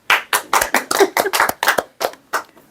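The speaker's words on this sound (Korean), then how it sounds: "박수 한번 칩시다." Around a dozen distinct hand claps from a small group at a church missionary gathering ring out close and crisp in a loose, uneven rhythm, then trail off near the end.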